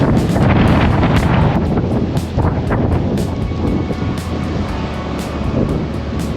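Strong gusty wind buffets the microphone at a subzero overlook, producing a loud, continuous low roar and rumble with ragged bursts throughout and no voices.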